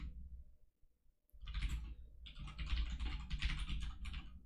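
Someone types on a computer keyboard while writing code, producing a close, quiet patter of irregular key clicks in two bursts with a short pause between them.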